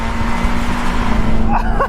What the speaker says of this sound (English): that Mazda MX-5 is too quick